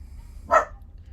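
A single sharp bark from Pickle, a pet dog indoors in a home, rising out of a quiet room and cut short, fairly close and moderately loud.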